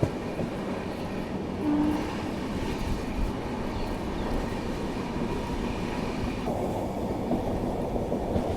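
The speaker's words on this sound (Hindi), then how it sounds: "हमारे इस तरफ कोई ट्रेन गुजर रही है और ये कोई स्पेशल ट्रेन लग रही है मुझे" A special train of ICF coaches hauled by a WAG-9 electric locomotive passes close by, a steady rumbling roll of wheels with faint clatter that holds level throughout.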